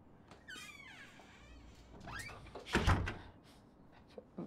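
An interior door swings shut once with a firm thunk near the middle, after squeaky whistling sounds and amid soft room noise.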